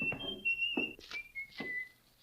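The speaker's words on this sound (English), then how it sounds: "he was whistling" A man whistles a short, bright tune in a radio drama scene, a few clear sustained notes broken by thuds and movement sounds, close and alone without talk.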